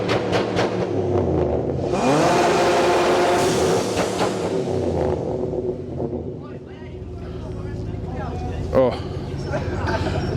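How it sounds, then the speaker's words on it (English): A V8 engine at a car meet revs hard, climbing to a loud, sustained roar that then falls away, with a brief sharp blip near the end and people talking over it. "Now that V8 is an awesome sound."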